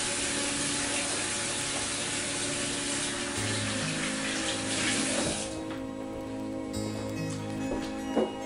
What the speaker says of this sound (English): I better wash my hands first.